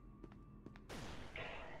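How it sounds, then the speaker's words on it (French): A sudden loud blast bursts in after a few soft thumps, followed by a rumbling, crackling roar that lingers and swells again near the end; a grenade explosion in the video game SCP: Secret Laboratory. "Et la grenade à explosion."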